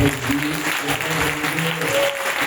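Applause from a seminar audience for the president of the core group at a charismatic religious gathering, steady dense clapping filling the whole moment at moderate loudness.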